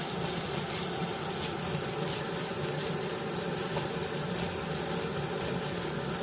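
Sliced ham being stirred in a pan with garlic fried golden over low heat, a steady, even sizzling hiss that continues unbroken throughout, with no talking.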